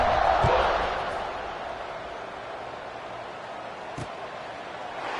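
Stadium crowd in the College Football 26 video game after a kickoff, producing a broad, steady roar that is loudest at the start and then settles into a sustained murmur, with a couple of brief thuds.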